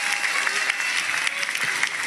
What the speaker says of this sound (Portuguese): Eu queria pedir para vocês uma salva de palmas aos profissionais da Caixa Econômica